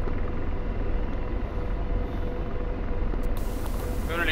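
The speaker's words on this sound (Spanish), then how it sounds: "Veo un helicóptero sobrevolando al norte de la bengala" In the DCS flight simulator, a helicopter flies overhead during a combat mission. Its rotor and engine make a continuous low rumble and broadband roar that stays steady and fairly loud, with no voices over it.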